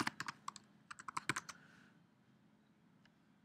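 Rapid clicks of keys typed on a computer keyboard, a dense burst of close, crisp taps over the first second and a half, then a quiet pause with a few stray clicks at the end.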